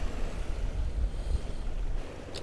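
Water waves wash in at a windy shoreline fishing spot, a steady, close rush of surf mixed with low wind rumble, with no voices.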